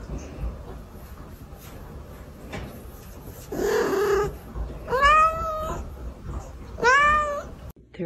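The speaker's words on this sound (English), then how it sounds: "So when your cat meows at you" A house cat meows twice, each call rising and falling, loud and close against a quiet room, with a brief rustle just before the first.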